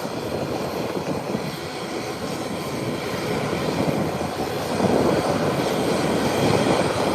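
An ATR 43 turboprop airliner comes in to land at Howard Hamilton International Airport, a steady, loud engine roar and broad rushing noise that swells slightly toward the end, with no voices.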